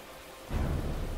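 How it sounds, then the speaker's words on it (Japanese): Heavy rain in the video game Heavy Rain rises abruptly after half a second of quiet and continues as a loud, dense, steady downpour. "だいぶ雨降ってんな"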